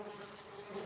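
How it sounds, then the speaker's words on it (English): A woman lying in bed makes a steady, droning buzz like a swarm of bees, continuous and moderately loud with no talk over it. "I hear her making this sound that sounds like a swarm of bees"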